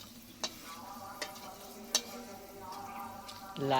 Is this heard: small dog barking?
no